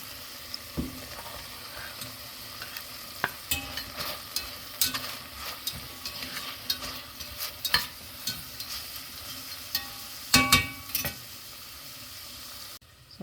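Chopped green chili stew ingredients frying with onions in a pot, a continuous sizzle under intermittent scraping stirs and occasional clunks of the spoon against the pot.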